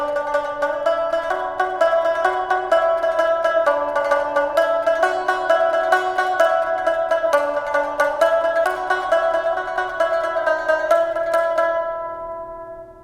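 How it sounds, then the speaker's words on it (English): A stringed instrument with sympathetic strings played in quick plucked notes over a sustained, shimmering resonant drone, a melodic line of bright strokes ringing steadily before fading out at the end. "So the sympathetic strings play a role of giving a resonant background"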